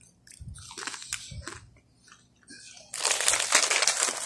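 Crisp crunching bites of Lay's New York Style Pizza flavored potato chips, a few chewing bursts close up, then a louder, sustained crackling crunch near the end.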